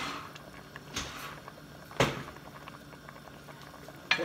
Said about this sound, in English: Now this is at a boil.